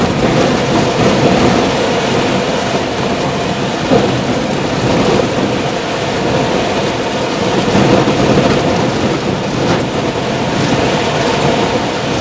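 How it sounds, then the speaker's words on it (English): Tropical Storm Ernesto pounding Fajardo, Puerto Rico, with hurricane-force gusts and heavy rain, a loud, constant roaring rush of wind and downpour that never eases. "High-end tropical storm force gusting deep into hurricane intensity."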